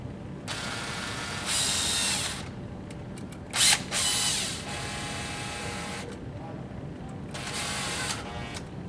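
Screws are driven into an L6-20R 220-volt outlet with a power drill, several short whirring bursts with brief pauses between them, close and fairly loud, with no talking.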